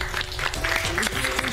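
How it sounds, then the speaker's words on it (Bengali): Audience clapping at a neighbourhood children's dance performance, brief moderate applause mixed with voices and background chatter. "মিলে একটা জোরে হাততালি।"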